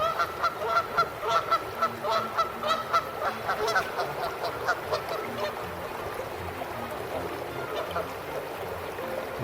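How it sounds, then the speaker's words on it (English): Several geese honk loudly and repeatedly in harsh bursts, fighting close by over a steady rushing background, on the Conneaut shore in spring. "we have a cat fight among the geese"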